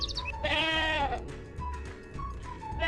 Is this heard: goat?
yes